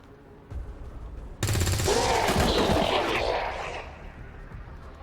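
Rapid automatic gunfire erupts in XCOM 2 as a soldier is shot, a loud sustained burst lasting a couple of seconds that then fades, preceded by a couple of faint thumps.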